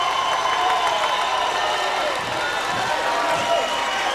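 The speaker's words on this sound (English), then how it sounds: "The crowd is on its feet." A basketball crowd at a Northwestern State versus Nicholls State game roars and applauds in a steady wash of cheering, with a commentator talking over it.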